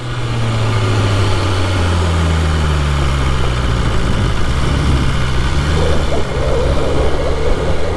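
A BMW S1000RR sport motorcycle engine with a suspected fault runs on a mountain route, a loud, steady near drone with humming tones that shift in pitch, with no speech over it.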